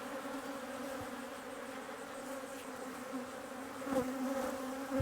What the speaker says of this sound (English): we want to get it in the box and stop the bees from going crazy